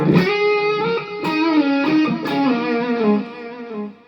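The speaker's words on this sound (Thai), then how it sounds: "ก็มีเสียงดีเลย์รีเวิร์บเลยช้าๆ นวลๆ เลย" Sustained electric guitar solo played through a Mooer GE-200 multi-effects unit with slow delay and reverb, smooth singing notes with lush trailing echoes, loud and alone.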